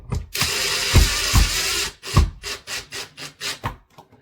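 A screwdriver tightening a wide-based water pipe fitting, heard as a run of close, loud ratcheting and rubbing turns with short rhythmic clicks, no talking.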